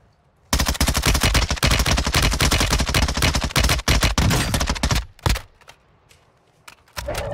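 Rapid automatic gunfire from the X13 Cronen shotgun in a shooter video game, a loud dense burst of shots lasting several seconds, then scattered single bangs and a quieter lull before the noise picks up again.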